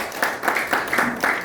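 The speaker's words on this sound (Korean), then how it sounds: "우리 강광민 박사님 앞으로 나오실 때 큰 박수 부탁드립니다." An audience claps to welcome a speaker at a forum lecture, a brief burst of rhythmic applause with distinct hand claps in a steady beat, near and moderately loud.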